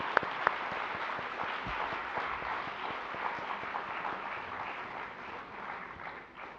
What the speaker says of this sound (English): I would request everyone to give a huge round of applause to every teacher in GIIS.